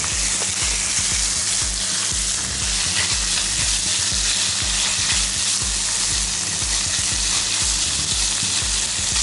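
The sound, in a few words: stirring frying zucchini and chicken in a pan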